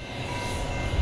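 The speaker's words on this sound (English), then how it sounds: "As the Music City Star rumbled into Riverfront Station" Music City Star commuter train rumbling into Riverfront Station, a low steady rail rumble, fairly close, with no talk over it.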